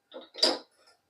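An iron griddle is set down on a stove with a short metallic clank, preceded by a light scrape and followed by a faint tap, then silence.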